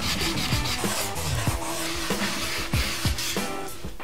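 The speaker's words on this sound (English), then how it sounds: "you should apply a reasonable amount of pressure and sand accordingly" The rough edge of a wooden skateboard deck is sanded by hand in repeated rasping back-and-forth strokes, close and fairly loud, with a continuous scratchy texture and no voices.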